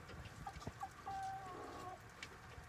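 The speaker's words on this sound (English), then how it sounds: "But it's a very, very nice chicken." Red-orange chickens outdoors on a cold day after snowfall, giving several short, soft clucks close by, with quiet pauses between them.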